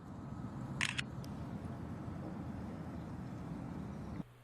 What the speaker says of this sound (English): Cheese shutter is just a fun way of capturing a shot.